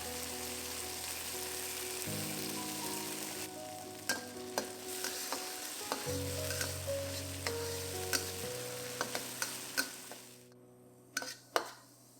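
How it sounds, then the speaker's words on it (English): Rempah paste fries in oil with a soft, steady sizzle while a utensil stirs and scrapes the pan in scattered close knocks, and no one speaks. "Fry the Rempah for 2 to 3 minutes till it's fragrant."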